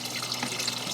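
Water flowing back into a homestead NFT hydroponic system, a steady close splashing rush like a running tap, continuous with no talk.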